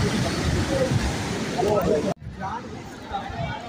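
Rushing water of the Saraswati river at its source in the Himalayas makes a steady hiss and roar, with people's voices murmuring nearby and a sudden cut partway through.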